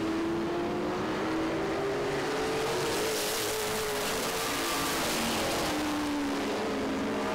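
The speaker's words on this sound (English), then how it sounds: "Those two cars were racing for position, so Fisher's going to have to navigate him." Race cars battle for position on a short oval at Baer Field Motorsports Park, engines droning loudly with a clear pitch sweeping up and down as cars pass, steady and dense for the whole stretch.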